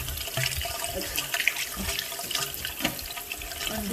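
Water rinsing freely down a freshly cleaned shower drain after hair removal with baking soda and vinegar; a continuous close splashing flow with small gurgles and drips.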